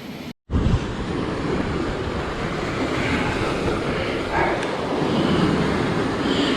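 Ocean waves wash against the rocky shore of an island fishing spot in a continuous loud roar of surf with wind buffeting the microphone, steady and broadband throughout after a brief cut at the start.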